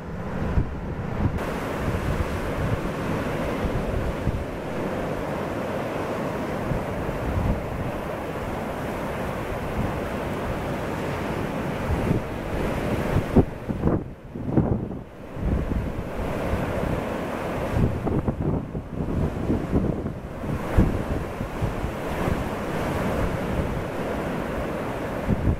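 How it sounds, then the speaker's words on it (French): Stormy surf pounds the Morbihan coast on the Atlantic, a steady loud roar of breaking waves mixed with heavy wind buffeting the microphone throughout, with brief lulls in the gusts. "Vous avez vu les vagues?"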